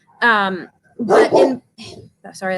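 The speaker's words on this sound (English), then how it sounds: "that's my dog. He's senile and old." An old, senile dog barks and whimpers in short bursts close by, its yelps mixed in with a man's speech.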